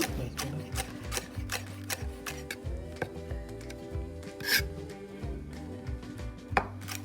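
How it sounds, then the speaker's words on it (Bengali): A knife finely minces deseeded green chili on a cutting board, giving a steady run of quick, crisp chops close up, with a brief louder knock near the end. "সেটাকে আবার সে বিচি ফেলে সুন্দর করে কুচি কুচি করে কেটে নিচ্ছে"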